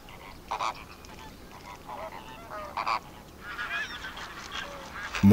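Honking, goose-like calls from a flock of greater and lesser flamingos in India's Little Rann sanctuary ring out in short bursts over a quiet, distant background.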